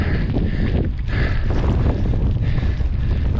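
Strong wind buffets the microphone in a steady, loud roar during a crosswind running effort session outdoors, with constant gusty rumble and no talking.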